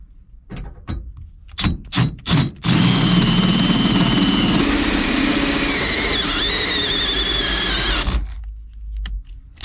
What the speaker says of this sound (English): I'm gonna get back with my Christmas tree bit and make 2 more holes, 1 and then 2.